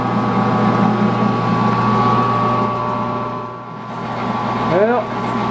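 A 13x40 metal lathe with its chuck mounted runs at speed after a spindle rebuild, giving a steady close hum with tonal whine, dipping briefly near the end.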